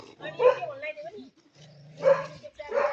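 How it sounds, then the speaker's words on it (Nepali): Dogs barking and yipping near a park on the way to a hilltop temple, short sharp barks in two bursts with a pause between, mixed with voices. "भुक्न चाहिँ छोड्दैन नि यिनीहरूले"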